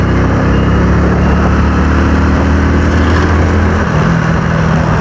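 A motorcycle on a ride along a route to Deegavapi, its engine droning steadily and loudly with constant wind and road rumble throughout, no voices.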